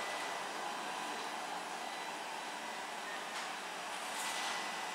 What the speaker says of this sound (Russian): Что, пылесосик работает?